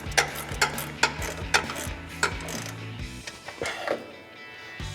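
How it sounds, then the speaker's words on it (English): A ratchet tightens the upper nut on a FOX Performance Series 2.5 front shock on a RAM 2500, giving a run of sharp, evenly spaced clicks close by, then a few quicker, fainter ones. "we're going to come back and finish tightening down our upper nut"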